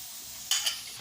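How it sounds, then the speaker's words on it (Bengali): Chicken and vegetables with ginger-garlic paste, green chilli, coriander-cumin powder, red chilli powder and salt frying in a pan, a soft steady sizzle with two short louder bursts of stirring or spatula scraping midway. "এই পর্যায়ে একটু ভাজা ভাজা হয়েছে।"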